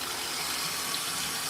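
An LG ThinQ MEGA Ultimate washer fills with water on a light wash cycle, a steady, even rush of flowing water close by with no other sounds.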